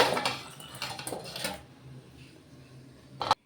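A lid lifted off a pot of boiled cabbage in a home kitchen gives a cluster of metallic clatters and scrapes, then goes quiet before one final sharp clink.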